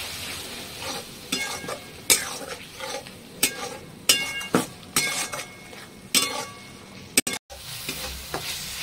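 Spices being stirred together in a pan for a Bengali egg curry with bottle gourd leaves, with repeated scraping strokes of a spoon against metal over a soft sizzle, close and steady, with no talking.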